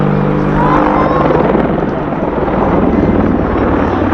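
An AgustaWestland Apache attack helicopter swinging through a 360-degree wingover at an air festival, its loud, continuous rotor roar and engine whine filling every moment without letup.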